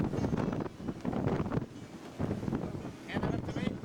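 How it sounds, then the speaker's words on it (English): Gusty wind buffeting the microphone aboard a sailboat in the British Virgin Islands, a steady roar with several louder surges while people talk nearby. "Wind's coming from there."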